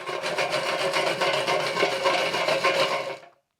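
Crispy roast potatoes scraping and rasping together in a steady, crunchy rustle for about three seconds, close up, then stopping abruptly.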